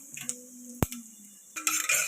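Cumin and mustard seeds dropped into hot oil for a chilli fry give a sharp clatter, then a faint crackle, followed by a louder, steady sizzle toward the end.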